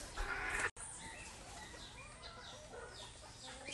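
Roosters and hens cluck in short, scattered calls at moderate distance over a quiet outdoor background, with a brief dropout early on.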